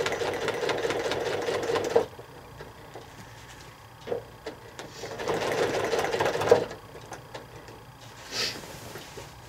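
A sewing machine quilting through painted fabric, its rapid mechanical stitching chatter running in bursts of a few seconds, separated by quieter pauses while the quilt is moved.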